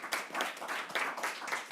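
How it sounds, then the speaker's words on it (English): A short round of applause at a board meeting, light and uneven clapping from a small group in a room, quiet and brief with irregular bursts. "please give a round of applause for Jarrell Farley from Wisdom Minds."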